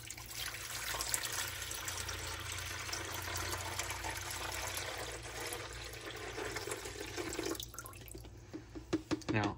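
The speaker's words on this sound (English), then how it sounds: "we're just going to pour the water in here" Water pouring steadily into the reservoir of a Frigidaire EFIC117-SS countertop ice maker, a continuous close splashing rush that thins into scattered drips and trickles near the end.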